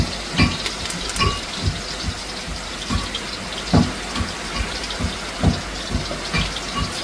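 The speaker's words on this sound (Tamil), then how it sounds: "எண்ணெயை ஊற்றி வெங்காயம் பச்சை மிளகாய் வதக்குவோம்." Oil poured into a pan for frying onion and green chili in a large home cooking session: a steady, close wet rush with sharp clicks and knocks scattered through it, and no voices.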